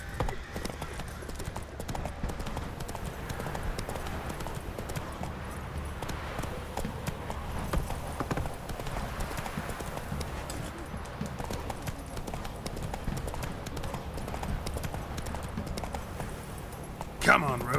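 Roach, a horse in The Witcher 3: Wild Hunt, gallops with a steady clip-clop of hooves through the whole stretch, moderately loud over a dense game background, with a brief louder burst near the end.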